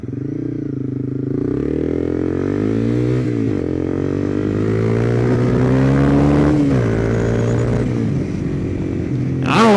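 A Honda CBR250R single-cylinder motorcycle with a slip-on exhaust runs close by, its engine rising and falling through several rev changes and shifts in a buzzy, harmonic drone, with a sharp clatter at the very end.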